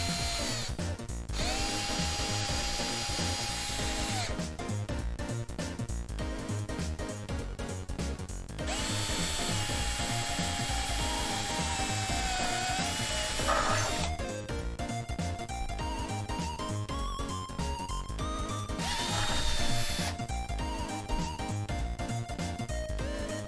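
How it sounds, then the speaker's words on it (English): A power drill drills into a heating-element electronics project, its motor whining loudly in repeated bursts of several seconds, with brief pauses and shifting pitch between runs, close up and without talk. "we're just gonna take our drill and we're just gonna go right at it."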